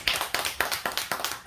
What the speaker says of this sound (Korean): 이럴 때 큰 박수를 한번